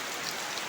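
Steady rain pours down outdoors in a town near a stadium, a dense, even hiss of drops striking surfaces throughout with no speech.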